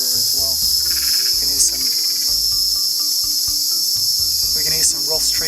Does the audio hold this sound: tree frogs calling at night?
yes